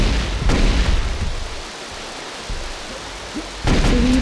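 Plasma rifle fire in a competitive first-person shooter, heavy bursts of booming, rumbling blasts at the start and again near the end, with quieter crackling and small zaps in between.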